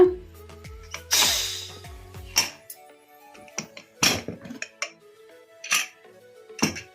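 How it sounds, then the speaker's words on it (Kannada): A pressure cooker lid is opened after the pressure has released while cooking green peas: a run of sharp metallic clinks, taps and clanks, some close and ringing, scattered irregularly over a quiet kitchen. "ಈಗ ಇದನ್ನು ಕುಕ್ಕರ್ ಮುಚ್ಚಳ ತೆಗೆದು ನೋಡೋಣ"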